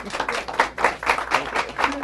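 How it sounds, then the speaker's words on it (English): A small group clapping in appreciation of first responders, a brief run of soft, evenly spaced claps close by with light voices mixed in. "All day long, they deserve a round of applause"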